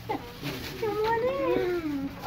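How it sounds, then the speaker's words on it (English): A small kitten gives a few thin, rising meows in quick succession, close by, over a light background hiss. "Malu, you naughty kitten, where are you"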